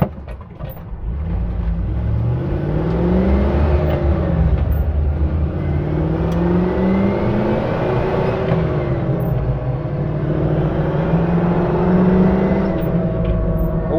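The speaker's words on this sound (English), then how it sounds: "I do like a V8 engine." The V8 engine of an ex-New Zealand Army Land Rover Stage One rumbles loudly from inside as it moves, its pitch rising and falling through gear changes as it drives steadily along.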